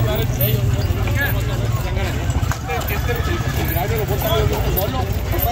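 At a huge horseback cavalcade in Mexico, a horse neighs repeatedly and hooves clip-clop through a loud, constant background of crowd noise, while people talk nearby.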